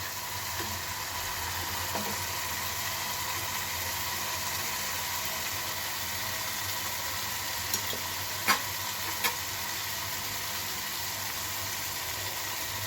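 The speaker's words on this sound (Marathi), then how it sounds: "तर मस्त असं परतून होत आहे कांदा." Onion sautéing in a pan for a potato bhaji gives off a steady, soft hiss and sizzle that continues throughout, with a few faint clicks from utensils.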